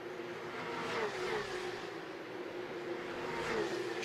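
Porsche Carrera Cup race cars at Spielberg in a continuous loud engine drone, with pitch rising and falling as cars pass on track and no talk over it.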